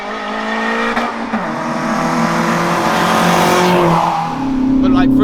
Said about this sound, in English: The boost comes on, you hear the rushing of the air